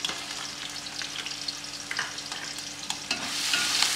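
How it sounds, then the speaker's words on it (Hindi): Garlic and ginger paste fries in a pan, sizzling steadily as it is stirred, with scraping stir strokes throughout and the sizzle swelling louder near the end, heard alone without voices. "थोड़ी देर के लिए फ्राई करेंगे तकरीबन 1 मिनट के लिए।"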